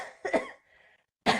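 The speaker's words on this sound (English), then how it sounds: "Having my shake and talking makes me cough, so I apologize for the coughing" Two short bursts of coughing from one nearby person, a brief pause with a faint throat sound between them, then another sharp cough at the end.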